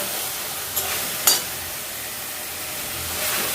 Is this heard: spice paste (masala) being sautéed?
yes